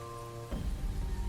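Steady rain falling on a roadside highway at night, a soft broadband hiss that swells in after a half second and keeps pattering, with low rumbling underneath and a faint tonal hum fading out as it begins.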